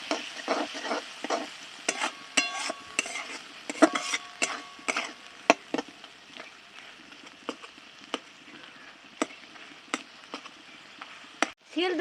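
Spice paste with salt, turmeric and Kashmiri chilli powder stirred and frying in a pan for a silver carp fish curry, with soft sizzling under repeated sharp scrapes and clacks of a spoon against the pan.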